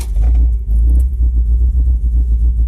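A Chevrolet Cavalier with a rough-running engine idles outdoors just after starting, a loud, low, steady exhaust rumble with slight uneven pulsing and no voices.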